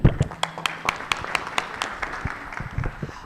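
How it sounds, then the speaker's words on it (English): Scattered clapping from a modest audience at a Tanzanian insurance industry conference, uneven and fairly close, a few hands at a time rather than a full ovation. "I believe that deserves a hand of applause."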